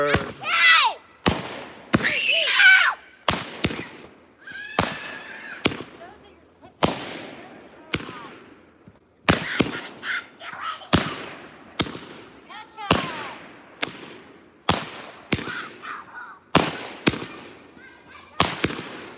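Fourth of July fireworks going off outdoors, a rapid series of sharp loud bangs and crackling bursts, some close, others echoing, with people shouting and talking between the blasts.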